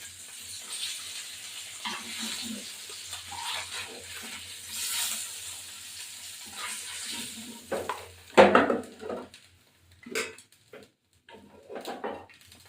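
Koi fish sizzles softly in oil for a while, then utensils scrape and clatter against the pan in short bursts.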